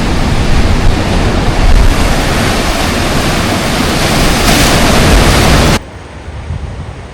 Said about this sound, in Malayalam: നല്ല തിരമാല അടിച്ചിങ്ങനെ തോന്നുന്നുണ്ട് കേട്ടോ.